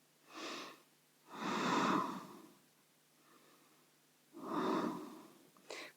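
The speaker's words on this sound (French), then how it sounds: "On essaie de garder 5 respirations ici." A person breathes slowly and audibly while holding a yoga stretch, with long breaths in and out spaced a few seconds apart, close and breathy, with no talk.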